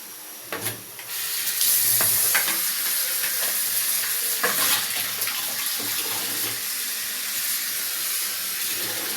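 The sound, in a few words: running tap water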